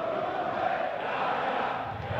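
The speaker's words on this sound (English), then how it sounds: "The crowd finding their voices." A darts arena crowd at the 2018 European Darts Grand Prix in Sindelfingen cheers and roars in a steady, dense wash of noise that holds for the whole stretch without a break.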